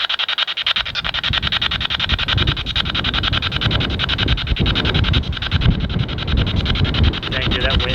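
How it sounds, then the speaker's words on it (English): Strong gusting wind battering the microphone outdoors on a cold, windy day, a loud rumbling roar that surges and fluctuates throughout, with a voice partly buried underneath. "that wind is crazy"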